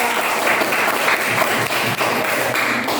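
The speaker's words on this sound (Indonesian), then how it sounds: "Yang lain silakan berikan aplaus dulu, tepuk tangan untuk kelompok." Classroom applause and clapping from students for a group that presented a poster on air pollution solutions, a dense steady patter of hands filling the room throughout.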